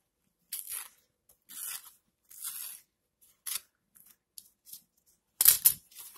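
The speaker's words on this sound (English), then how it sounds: "this is more paper towel than I need, so I'm going to rip it in half" Paper towel being torn by hand while packing spiders for shipping, heard as several short, crisp ripping bursts separated by pauses, close and moderately loud, ending in a sharper tear, with no voices.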